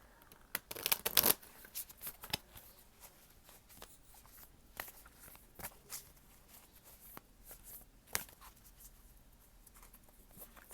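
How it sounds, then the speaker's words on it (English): Tarot cards riffle and slide in soft, close shuffling, with a louder flurry near the start and scattered light flicks and taps afterward. "let me shuffle these ones up really good too."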